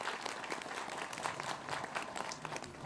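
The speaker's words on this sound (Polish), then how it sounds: "Brawa dla straży!" Crowd applause for the procession guards at a Three Kings parade in Tomaszów Mazowiecki, a steady, fairly faint wash of many hands clapping outdoors for the whole stretch, with no speech over it.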